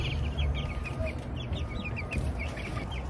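Chickens being fed chick starter cluck and chatter close by in a quick, repeated series of short calls over a low background rumble.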